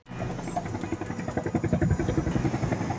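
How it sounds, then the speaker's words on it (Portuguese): A loud, rhythmic chopping engine thrum pulses steadily throughout as a police helicopter flies low over houses in Rio de Janeiro's Complexo do Caju. "Do alto, o helicóptero fez voos rasantes perto de centenas de casas no Complexo do Caju"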